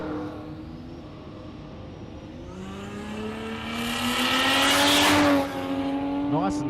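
A Ford Cortina drag car with a boosted Barra engine launches at a dragstrip, its tone rising steadily to a loud, high-pitched roar before abruptly cutting off, heard from nearby under a commentator's voice.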